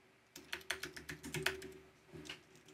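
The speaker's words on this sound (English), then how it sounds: "And I can type in a web address here." A web address is typed on a computer keyboard in a quick run of close, clicky keystrokes, then a short pause and a couple more presses, with no voices.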